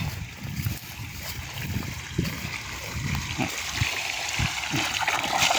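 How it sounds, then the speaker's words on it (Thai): Well water from a solar-powered pump pours steadily into a rice field, a continuous splashing wash with scattered low thumps and gurgles throughout. "มาสูบน้ำใส่นา ด้วยโซลาเซลล์ครับ"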